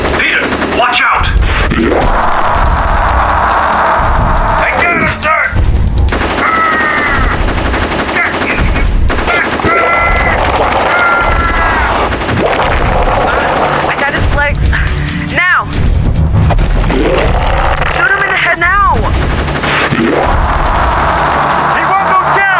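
Heavy sustained gunfire aimed at a yeti in a video game battle, dense rapid bursts filling the clip over a loud roaring game soundtrack with shouting voices.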